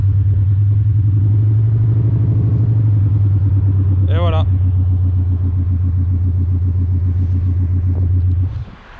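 Deep, steady engine rumble from an Audi Q8 diesel, a Lumma-tuned MS Motors build, with its active sound exhaust open, droning loud and close. A brief spoken remark comes over it before the engine cuts off at the end.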